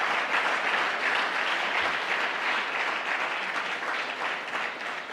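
Sustained crowd applause fills a hall during an address by South African President Cyril Ramaphosa, a steady, dense clapping that holds for about five seconds and tapers slightly at the end.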